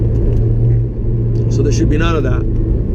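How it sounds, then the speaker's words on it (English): A Honda S2000 on a test drive gives a steady low engine rumble from inside the cabin, a smooth continuous drone with a brief lift, while someone talks over it. "This car has a very active and responsive throttle."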